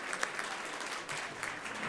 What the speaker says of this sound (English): Give another round of applause for 40 years.